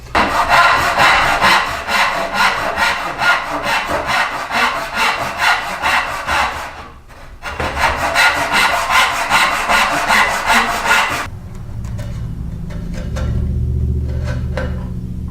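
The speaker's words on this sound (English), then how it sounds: "I'm going to cut that with a handsaw." A handsaw cutting through wood at a workbench, with two long runs of fast, even back-and-forth strokes, loud and close, separated by a brief pause, then quieter rubbing and handling noises.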